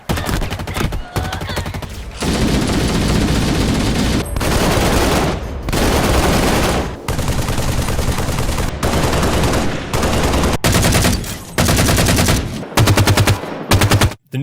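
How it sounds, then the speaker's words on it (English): Sustained automatic assault rifle fire from Halo-style video games, loud continuous bursts of rapid shots broken by brief pauses, close and alone with no talking. "listen to the assault rifle from other games"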